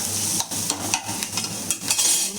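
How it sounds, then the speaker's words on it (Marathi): Onion masala for shev bhaji sautés in a pan, giving a close, steady sizzle broken by repeated scraping clicks as a spoon stirs it, with no talking. "थोडं परतून घ्यायचं."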